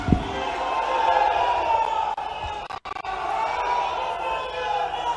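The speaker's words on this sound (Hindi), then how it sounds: "जोरदार तालियों के साथ अभिनंदन करें आदरणीय श्री अमित" A large outdoor crowd at a farmers' conference in Rewa applauds loudly. A continuous roar of clapping and crowd noise carries on with a brief sharp dropout midway, and voices mix in.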